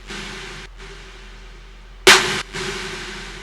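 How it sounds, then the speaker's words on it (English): A single snare drum sample in an electronic music production, one sharp, loud hit standing out over a sustained synth bed, with no talking. "So this is one snare."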